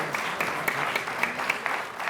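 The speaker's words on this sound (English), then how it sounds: "Can we give these students a round of applause?" A studio audience claps for students at a Varsity Quiz high school quiz show championship, a moderate, fairly sparse patter of hands with a few sharper individual claps, steady for the whole couple of seconds without talk.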